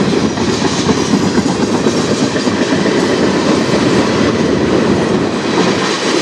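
A freight train on the Strathroy Subdivision rolls past close by, a loud, dense roar of wheels with rhythmic clickety-clack and occasional faint squeal, continuous throughout with no voices.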